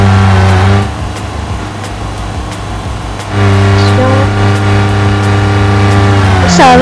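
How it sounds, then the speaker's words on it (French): A car engine held at full throttle in the video game BeamNG, a loud steady roar that drops briefly, then surges back with rising pitch sweeps near the end, while people talk over it. "Là, je suis au max sur la pédale d'accélérateur."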